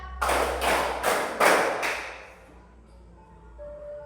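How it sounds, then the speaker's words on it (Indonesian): A class of students claps in unison, four sharp, evenly spaced group claps close by, then the sound trails off into a quiet room. "tepuk 4"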